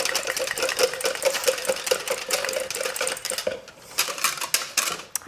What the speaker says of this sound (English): Then just give it a whisk.